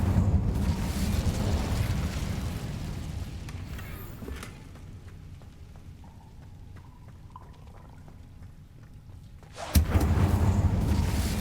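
An Incendio fire spell cast in the Hogwarts Legacy game bursts with a roaring whoosh of flame, quieting to a low hum before a second loud fiery burst near the end.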